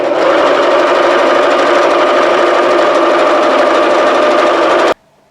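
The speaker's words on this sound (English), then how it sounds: "So we'll just sew that now, starting from here, 1/4 inch, and we're going to sew all the way through." A sewing machine runs steadily as it stitches a quarter-inch seam along quilting fabric strips, a loud continuous motor whir that stops abruptly near the end.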